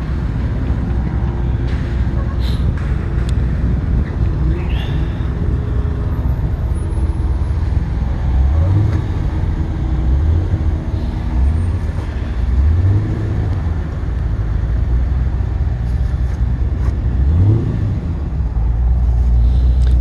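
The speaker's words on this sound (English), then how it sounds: "We got a traffic jam, a bunch of people trying to get out now." A steady traffic jam of cars and trucks leaving the Turkey Run swap meet in Daytona, Florida, with continuous engine rumble and road noise and occasional rising engine revs as vehicles pull away.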